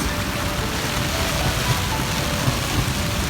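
Steady wash of heavy rain from a passing squall drumming on a sailboat at sea in the British Virgin Islands, a continuous broadband hiss with scattered louder drop impacts and no voices.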